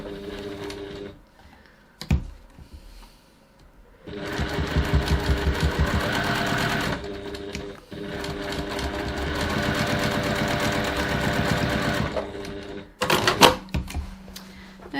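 A sewing machine stitches a bag in long, loud, close runs of rapid whirring with brief stops between them, plus a few sharp clicks and clunks at the pauses and near the end.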